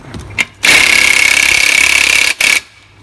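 A power tool, likely an impact wrench, tightens the clutch nut on a Vortex Mini Rok kart engine: a brief blip, then a loud, sustained high whir for about two seconds, a short gap and a final burst.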